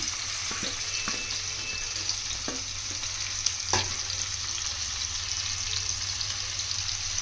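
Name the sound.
onions and green chillies frying in pan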